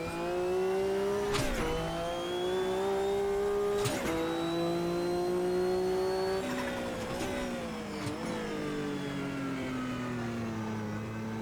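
Race car engine from the Automobilista 2 racing sim, with Group C cars on the retro Spa circuit, drones steadily at high revs, with sharp gear-shift drops and brief surges as the car brakes and accelerates through a chicane.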